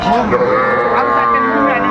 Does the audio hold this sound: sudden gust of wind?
no